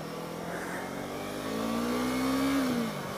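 A Yamaha YZF-R3 motorcycle engine pulls in second gear, its steady drone rising in pitch toward about 8,000 rpm before easing off.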